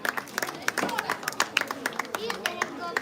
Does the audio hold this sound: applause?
yes